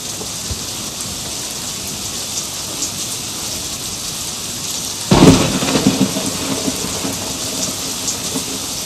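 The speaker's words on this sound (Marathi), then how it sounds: "पावसाचा धिंगाणा सकाळी पण चालूच होता" Steady rain patters on surfaces in an even wash, then a sudden close crack of thunder bursts out midway and rumbles off while the downpour keeps going.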